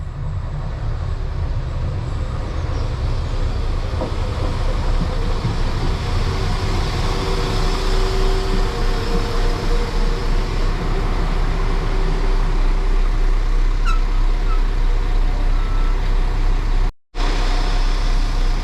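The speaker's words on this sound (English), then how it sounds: "arriving in now is the 1614 West Midlands Railway service to Stratford upon Avon" A West Midlands Railway class 172 diesel passenger train rumbles steadily nearby, engine droning at a constant level as it rolls into a station on the North Warwickshire Line, with faint squeals near the end.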